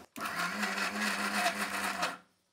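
A kitchen mixer grinder runs steadily, grinding tamarind and home-made chili powder into a smooth paste with a loud, continuous whirring drone that stops abruptly.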